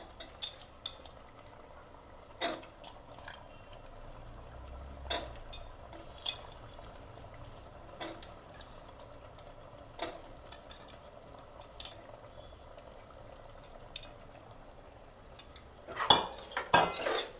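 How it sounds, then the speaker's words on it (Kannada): Chopped vegetables frying in a pan for mushroom biryani, with a faint steady sizzle broken by repeated sharp spoon scrapes and clinks every second or two, busier near the end. "ಚೆನ್ನಾಗಿ ಫ್ರೈ ಆಗಬೇಕು."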